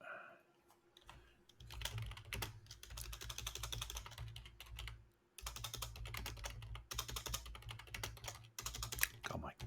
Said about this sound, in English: my typing is terrible at the moment